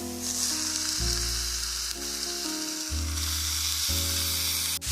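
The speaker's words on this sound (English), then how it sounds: "After 1 minute, we're going to add in our ground beef" Ground beef sizzling in a pan with minced garlic, a loud continuous frying hiss with a steady low hum and a few soft scraping stirs.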